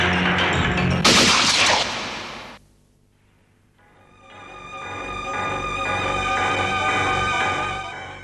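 Gunfire erupts on a command to fire in a Hindi TV crime drama, a loud dense volley of shots and blasts that stops abruptly, then gives way to a swelling musical score.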